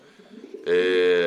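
Domestic Modena pigeons kept for sale coo in a loud, sustained call close by, after a brief stretch of softer murmuring.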